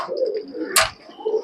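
Pigeons coo softly and low nearby, with a brief rustling burst in the middle, like a flutter of wings.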